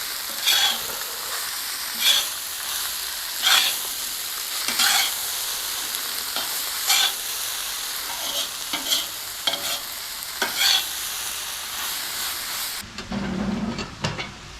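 Cabbage is stirred in a pan at maximum heat, with a steady sizzle and regular rhythmic scraping strokes every second or so, ending abruptly in a short quieter, duller rumble; no speech.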